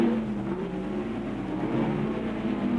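1962 Formula 1 racing cars, led by Graham Hill's BRM at Rouen-Les-Essarts, roar past in a loud, steady engine drone that rises slightly throughout, with no voices.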